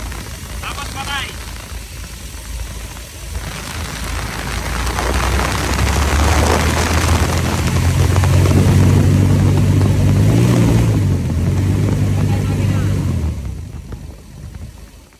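A Ford Ranger engine revs up loudly and holds a steady drone, then winds down and cuts off near the end; people talk over the engine noise.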